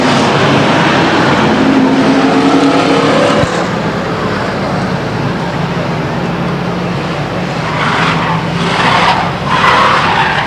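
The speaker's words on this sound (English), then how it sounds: "Turning that car around and around and around and around." Race car spinning around on the Stockton 99 Speedway track, a loud continuous engine roar with skidding tire noise that holds steady, then eases slightly and swells again near the end.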